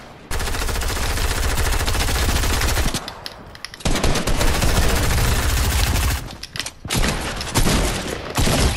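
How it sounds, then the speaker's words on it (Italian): Loud, sustained automatic gunfire from the Fortnite Battle Royale video game, played with a broken controller, rattling in dense bursts with two brief pauses between volleys and no talking over it. "Stanno sparando a me?"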